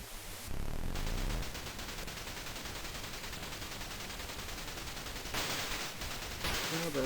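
Continuous harsh, noisy gunfire from the Amstrad CPC game Ghost Hunters, shooting at ghosts: a dense, unbroken stream of crackling static-like shots that runs almost the whole time with little variation in loudness.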